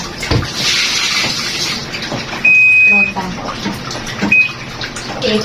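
A washing machine drum filling from the tap, water gushing steadily beneath a person talking, with a brief beep partway through.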